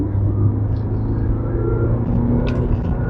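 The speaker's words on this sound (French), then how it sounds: "On va faire une petite accélération." A Jaguar XE car accelerates briefly, a steady close engine rumble with low harmonics holding through the short stretch, without any talk.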